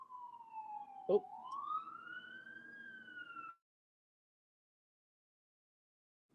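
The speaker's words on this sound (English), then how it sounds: "sorry about the siren, everybody" An emergency vehicle siren outside wails with a rising and falling pitch for about three and a half seconds, then cuts off, under a brief exclamation from a nearby voice.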